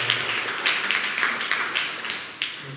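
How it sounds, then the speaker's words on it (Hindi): A church congregation at a Sunday evening Hindi service claps, a run of about eight separate claps that rise and fade, fairly close and with no voices over them. "क्यों ना परमेश्वर के लिए जोरदार ताली बजाते हैं"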